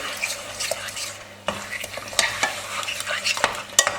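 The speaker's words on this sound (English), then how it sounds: "Now this whole mixture, of course we stir it nicely together" Chickpea curry mixture being stirred in a pot, a series of sharp spoon clicks and scrapes against metal over a soft background sizzle, close and fairly loud.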